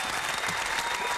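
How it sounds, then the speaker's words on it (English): Studio audience applause during a live radio freestyle show, a dense steady burst of clapping filling the whole moment. "keep the fucking round of applause going"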